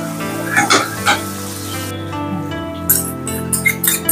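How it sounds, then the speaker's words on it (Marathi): Medium-cut onion drops into very hot oil and sizzles loudly and steadily up close, with sharp crackling bursts and a few clinks near the start and end. "तेल थोडं जास्त गरम झालेलं आहे, त्याच्यामुळे इतकं जास्त आवाज येत आहे।"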